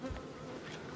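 Honeybees buzzing at an open beehive during hive work, a dense steady hum of many insects filling the whole second at close range, loud and continuous with no voices.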